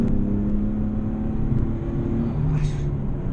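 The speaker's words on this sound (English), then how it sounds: "turn in hard here using the weight of the car, just right in on the strips, and then accelerate hard out here" Nissan 370Z on the Rockingham circuit during a track day, its engine droning steadily and loudly from inside the cabin as it pulls hard out of a corner, with a low rumble throughout.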